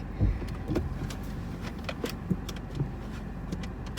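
Car slowly reversing out of a home parking garage: a continuous low engine hum with scattered clicks and a few soft thumps, close and moderately loud, with no talk.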